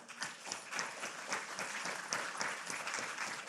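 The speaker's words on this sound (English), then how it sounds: "I'm glad you're applauding, but that's not a cheap decision" A university lecture audience applauds steadily throughout, dense clapping with no pauses, heard from within the audience.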